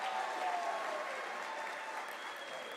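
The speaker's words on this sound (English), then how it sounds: "can you give them a round of applause?" Graduation ceremony crowd at the University of South Africa clapping for standing honours graduates, a sustained even patter of many hands that eases slightly toward the end, heard without speech.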